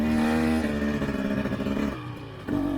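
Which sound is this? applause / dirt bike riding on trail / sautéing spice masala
dirt bike riding on trail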